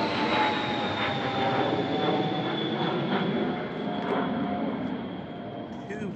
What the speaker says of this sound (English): Two planes today.